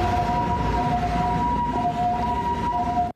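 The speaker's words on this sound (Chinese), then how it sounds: "救护车紧急到场" An ambulance siren arrives at a traffic accident scene near a busy highway interchange, where a truck ran over a motorcyclist; a steady, loud electronic wail carries over low traffic rumble, continuous throughout with no talking.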